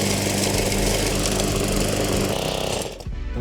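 Loud broken lawn mower engine running steadily up close for about three seconds, a droning rattle that drops off abruptly near the end.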